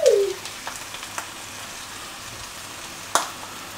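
Young cabbage fries in olive oil in a pan, a faint steady sizzle with a few soft clicks and one sharp utensil knock near the end, no speech.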